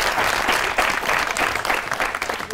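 A studio audience applauds steadily for the whole stretch, a dense, even wash of many hands clapping at close range with no voices on top.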